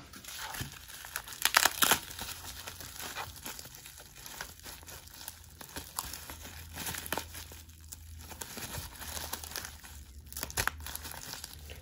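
Thick card mailer packaging crinkles and crackles continuously as it is unwrapped, with louder crunchy bursts now and then and no talking.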